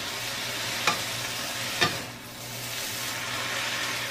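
Potatoes with two spoons of rice vinegar are stirred in a hot pan over a soft, steady frying sizzle, with two sharp scrapes of a utensil against the pan, close and without talk.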